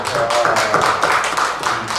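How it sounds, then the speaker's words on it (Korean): Steady, dense clapping from a lecture audience at a Buddhist talk fills the room, an even patter of many hands that continues throughout without pause. "제가 박수 한번 쳐드려야겠다."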